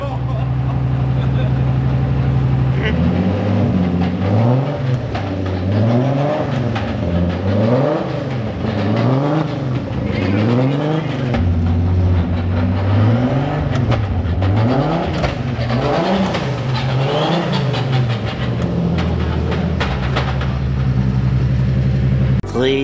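A Nissan 350Z engine is revved repeatedly close by, its pitch climbing and falling in a series of wavy throttle blips over a steady idle, with talk mixed in.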